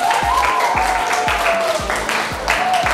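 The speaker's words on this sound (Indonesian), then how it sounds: "Kita beli aplaus untuk kelompok 1." Steady crowd clapping in a classroom, greeting group 1 as it comes forward during a teaching performance test, filling the room continuously with dense overlapping claps throughout.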